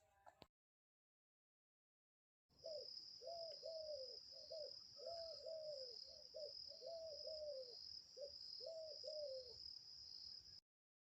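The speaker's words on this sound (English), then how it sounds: "dove" A dove coos in a steady run of soft, repeated rounded calls, close and clear, over a constant high insect-like hum with no voices.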